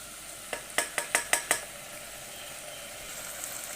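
Soy sauce and chili sauce are poured into chicken egg fried rice sizzling in a restaurant-style pan, giving a quick run of five sharp metallic clacks from tossing and scraping over a soft, steady background hiss.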